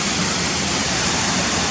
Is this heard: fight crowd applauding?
no